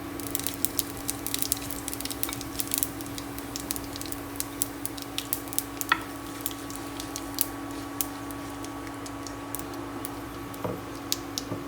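Cumin seeds sizzling in hot oil for an Indian dal, a steady frying hiss with scattered sharp pops and crackles throughout, with no talking.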